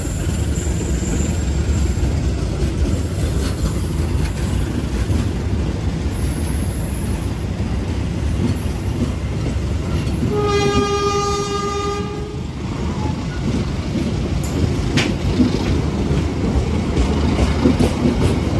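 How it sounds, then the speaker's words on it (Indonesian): A KA Komuter Line Garut–Cibatuan commuter train departs Cicalengka station with a steady rolling rumble of wagons throughout and a clear multi-tone horn blast in the middle, loud and close. "Ini KA Komuter Line Garut Cibatuan berangkat dari stasiun Cicalengka."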